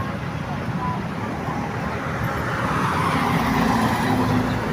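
Steady road traffic on the C5 road by the airport: a continuous low rumble of cars, buses and trucks passing nearby, with the wash of engines swelling slightly toward the end.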